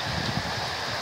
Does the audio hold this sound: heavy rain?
yes